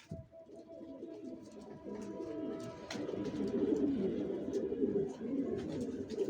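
Racing pigeons cooing in a loft, a soft steady murmur of low coos from several birds with a few faint chirps, fairly quiet and without talk.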